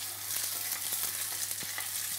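Beef tenderloin, an ordinary lean cut, sears in a very hot frying pan with a drop of oil, giving a steady, close sizzle with a few small pops and no talking.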